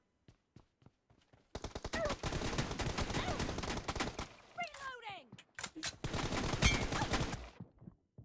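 Rapid bursts of gunfire in the mobile battle royale game PUBG Mobile during a 1v1 arena match, dense volleys with short gaps, loud and close, with a few isolated shots at the start and someone talking excitedly over it.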